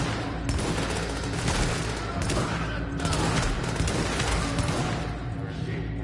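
M1A rifle fire in The Division, a cover-based shooter, with dense, continuous volleys of shots and other weapons crackling close by throughout, never letting up.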